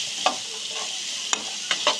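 Chopped onions fry with whole garam masala in white oil, a steady hiss broken by a few sharp scraping strokes as the pan is stirred.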